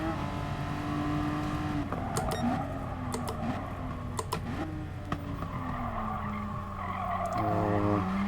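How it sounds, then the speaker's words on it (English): A race car in GT Sport brakes hard, its engine note falling and tires skidding and squealing, followed by the engine revving back up with gear-shift steps, loud and continuous. "Must get this braking right this time. So we're going to brake a bit earlier."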